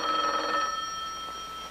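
Telephone bell ringing in an old radio drama, a loud metallic trill that sounds once and then fades away, with no talking over it.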